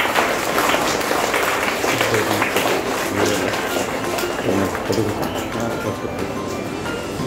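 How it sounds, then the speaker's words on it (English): An audience at a school prize distribution day claps for students called onto the stage, a steady patter of applause from a crowd in a hall, moderately loud, with faint voices mixed in. "Clap."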